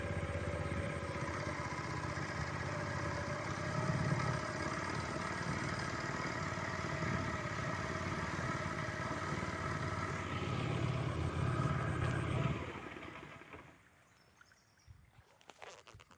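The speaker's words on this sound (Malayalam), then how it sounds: "ഇനിയിപ്പോൾ വള്ളം ഇഞ്ചൻ ഓഫാക്കാൻ പോവാണ്" A boat engine drones steadily and loudly for a long stretch, then is switched off near the end, leaving near quiet.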